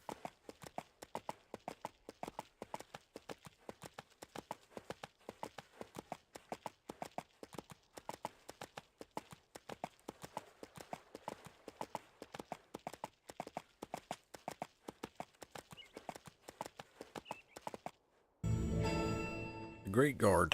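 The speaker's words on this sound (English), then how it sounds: "Guess we're taking the scenic route here on this horse." Horse hooves clip-clopping in the video game EverQuest 2, a steady rhythmic trot of sharp clicks repeating for most of the stretch, ending in a brief louder burst of other game sound.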